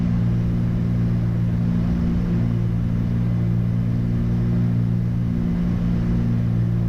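Small airplane taxiing to parking after landing, a loud steady engine drone heard from inside the cabin, even and continuous with no spoken voices.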